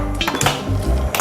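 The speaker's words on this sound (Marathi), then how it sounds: "आता ही कढई ठेवली," A metal kadhai (wok) set down on a kitchen stove, giving a few close clanks and scrapes of metal cookware over about a second.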